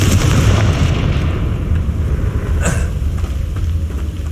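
A Confringo blasting spell explodes in the video game Hogwarts Legacy: a loud, sustained rumbling blast with a sharper crack flaring near the middle, the roar lingering to the end.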